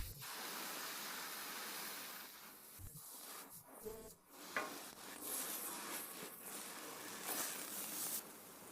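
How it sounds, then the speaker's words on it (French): A burger bun steams on a hot griddle, giving a steady, soft hiss of steam with occasional scraping and shuffling, no voices. "Chez Roberts, ils cuisent leur pain à la vapeur."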